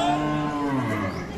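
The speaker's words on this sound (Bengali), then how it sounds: "এখানেও আরেকটি গরু দেখছেন" A bull mooing at a busy cattle market, one long, loud, drawn-out low call that fills the moment, with no talk over it.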